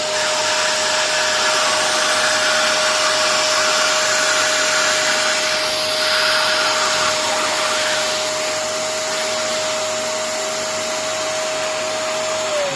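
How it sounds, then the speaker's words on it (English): A loud, steady vacuum cleaner whine runs continuously close by while cleaning a vinyl record, with a constant high-pitched motor tone and no talking. "Do you see the capability of this, the strength of the vacuum cleaner?"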